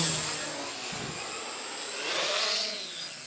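A Quanum XJ470 multirotor drone flies past, its propellers producing a loud, steady whine and broad rushing buzz that swells and fades slightly as it drifts by, with no talking.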